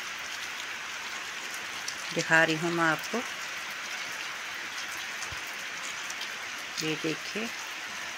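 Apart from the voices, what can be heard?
heavy rain falling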